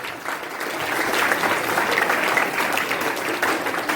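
Applause from an audience at a Teachers Day event, dense continuous clapping that swells after a short start and holds steady for several seconds, with no speech over it.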